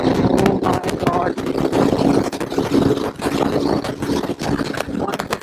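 Triumph Speed 400 motorcycle engine cruising in sixth gear, a continuous steady drone mixed with heavy wind buffeting on the microphone, with choppy dropouts along the way.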